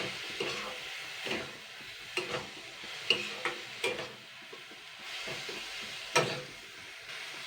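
Pointed gourd peel paste fries in a pan, giving a soft steady sizzle broken by several clattering stirs and a few sharp knocks against the pan, close by with no voices.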